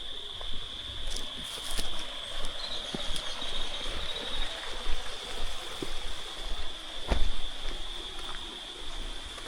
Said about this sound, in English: That's the river down there.